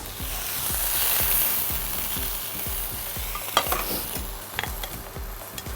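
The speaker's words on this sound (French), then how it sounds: "Je vais les mélanger aux légumes." Strips of thawed, browned kebab meat stirred into vegetables in a hot pan, with rhythmic scraping strokes of a utensil over a steady sizzle and a few sharper clinks near the end.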